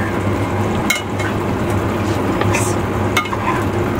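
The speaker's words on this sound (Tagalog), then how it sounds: "Buksan na natin. At ating ilagay yung ating carrots and patatas." Carrots and potatoes stirred into a simmering chicken curry pot, a steady low bubbling sizzle with a couple of brief scraping knocks of the spoon against the pot, close up and without talk.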